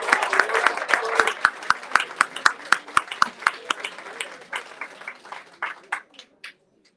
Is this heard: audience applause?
yes